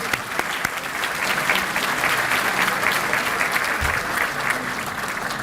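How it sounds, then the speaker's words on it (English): An audience applauds steadily for board members of the Hampton Roads Chamber at Suffolk's 2022 State of the City event, with dense sustained clapping filling the room, a few sharper claps at the start, and brief murmurs beneath. "So let's give all of our board members a round of applause."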